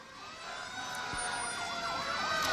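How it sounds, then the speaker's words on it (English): A fire truck's wailing siren sweeps up and down over steady road rumble at a Christmas parade, growing gradually louder as it approaches, with no voices. "You can hear the sirens going right there."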